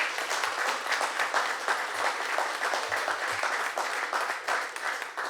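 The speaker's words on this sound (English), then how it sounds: "So let's give her a round of applause." Steady audience applause at a civic event where the Washington DC mayor announces growth legislation, dense and continuous throughout with no voice over it.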